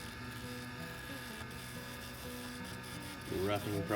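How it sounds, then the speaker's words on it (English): A bandsaw cuts a large piece of cherrywood down to a small blank for wood turning, a steady mechanical drone with a faint hum throughout and a rougher swell near the end. "Right now, we're on the bandsaw, cutting a big piece down to a small workable blank."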